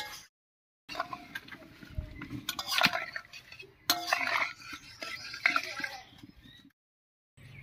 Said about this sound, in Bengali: এবারে জল দেবো ঝোলের জন্য।